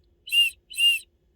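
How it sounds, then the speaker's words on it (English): Two short, shrill blasts from a cheap plastic whistle, blown softly and close in a quiet indoor space, evenly spaced with silence between them. "Just a cheap whistle."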